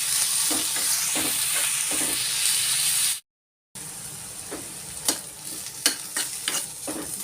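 Brinjal frying in a pan until soft for chutney: a steady hissing sizzle broken by a brief dropout, with scattered scraping and clicking from stirring.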